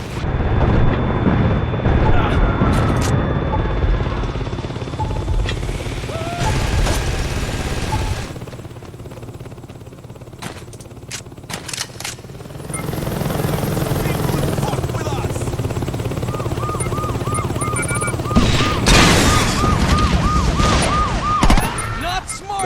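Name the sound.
attack helicopter in Saints Row 2 video game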